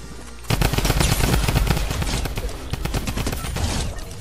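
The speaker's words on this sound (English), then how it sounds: "Oh, drum gun." A drum gun firing in a video game, a rapid sustained burst of loud automatic gunfire that kicks in after a short pause and continues steadily to the end.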